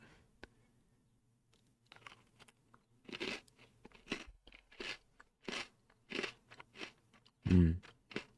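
Lotte Pepero strawberry biscuits are bitten and chewed close up, a series of crisp, crackly crunches at an irregular chewing pace with no talk.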